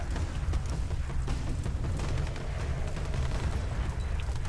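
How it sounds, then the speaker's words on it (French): Dense, rumbling bursts of gunfire and booming blasts from the video game Rise of the Tomb Raider roll continuously at a steady loudness, a heavy low-end barrage with no voices. "il y a des coups de feu là-bas en bas"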